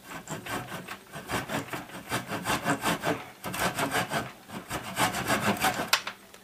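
A hand saw making an upward side cut through material, rapid rhythmic back-and-forth strokes, close and steady over several seconds with a brief pause midway.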